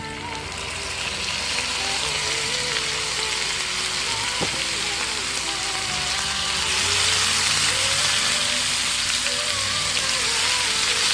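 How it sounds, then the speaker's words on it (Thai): Chopped liver stir-frying with garlic in a hot pan for a Thai garlic-and-chili liver dish, giving a steady, dense sizzle with crackling that swells slightly toward the end, with no talking. "นำตับเข้ามาลงผัดนะคะเอาตับมาลง"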